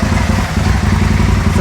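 An Aprilia motorcycle engine held steady at 3000 RPM during fuel tuning gives a constant, rough, close drone that does not change in pitch across the short stretch.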